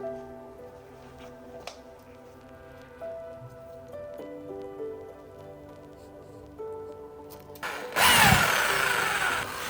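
A power drill starts up near the end, a loud, close whirring grind boring 10mm holes, following several seconds of quieter background tones.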